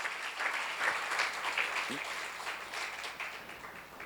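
A church congregation at a Friday worship seminar claps steadily throughout, a dense even patter of many hands with faint voices underneath.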